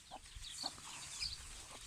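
Young chicks in a fenced home vegetable garden peep and cheep in short, high chirps scattered across the moment, fairly close and moderately loud, with no voices.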